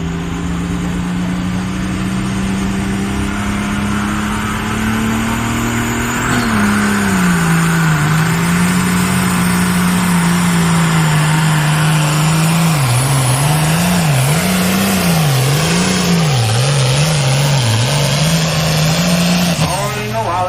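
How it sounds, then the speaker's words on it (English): An old tractor engine at an evening tractor pull drones loudly and continuously under its load, its pitch wavering and bobbing as the throttle changes, while an announcer talks over the roar. "The old tractor runs pretty good."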